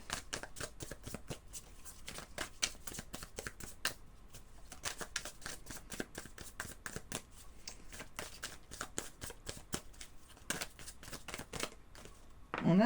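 Tarot cards being shuffled close up, a rapid run of crisp riffling flicks and slaps that pauses briefly and resumes, with no talking over it.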